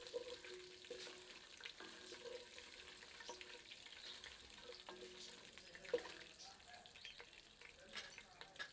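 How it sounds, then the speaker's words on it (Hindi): Whole dry spices fry in hot oil for a palak chicken curry, a soft, steady sizzle heard fairly faint with a few light clinks and stirring sounds, no talking. "इन्हें कुछ क्षण गर्म तेल में भून लेते हैं ताकि इनका सार तेल में समाहित हो जाए।"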